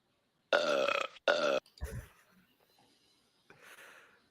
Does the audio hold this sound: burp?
yes